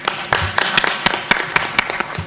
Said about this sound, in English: A big applause to the Honorable Minister